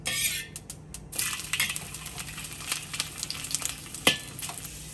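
Fish pan-frying in oil in a wok, a steady close sizzle and crackle with scattered pops and a sharp metallic clink near the end, no voices.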